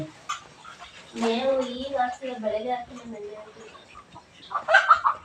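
Young chicks cluck in a cattle shed, their soft calls mixed with a person's voice, with a brief burst of louder clucking near the end.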